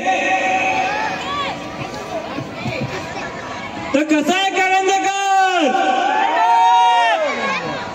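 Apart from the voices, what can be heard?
crowd shouting and cheering loudly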